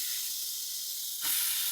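Olive oil and homemade onion-garlic seasoning hit a hot pan, giving a steady close hiss that brightens and swells near the end, with no voices.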